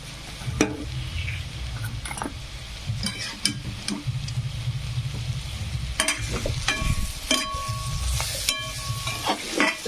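Cluster beans (gavar) stirred and fried in oil, a steady close sizzle with repeated scraping strokes of a spoon through the pan, no talking.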